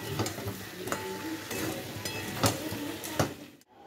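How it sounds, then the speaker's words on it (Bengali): A spoon stirs coriander powder, cumin powder and tomato in a frying pan, with a soft, steady sizzle broken by several sharp scrapes against the pan. "ধনে গুঁড়ো, জিরে গুঁড়ো, আর দিলাম টমেটো। এবার ভালো করে মিশিয়ে দেবো"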